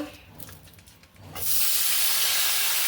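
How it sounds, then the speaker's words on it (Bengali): Green chilies hit hot oil in a wok and break into a loud, steady sizzle that starts suddenly midway and holds strong, after quieter kitchen sounds and faint talk. "কড়াইতে একটু তেল দিয়ে দিলাম তেল দিয়ে এখন এই যে কাঁচামরিচ দিয়ে দিলাম কয়েকটা"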